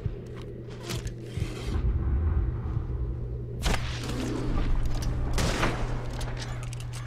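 A burst of gunfire in the video game Red Dead Redemption 2 cracks over a steady low hum, with a couple of sharp shots standing out against rumbling background noise.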